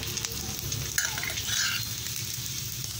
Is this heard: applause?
no